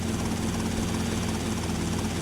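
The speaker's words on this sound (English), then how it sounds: "So this kind of helicopter with this metal strut-like tail and bubble-like canopy is historically very important kind of helicopter." A helicopter in GTA: Vice City, a small bubble-canopy type with a metal strut tail, gives off a steady, dense rotor and engine drone with a constant low hum, heard alone with no talk.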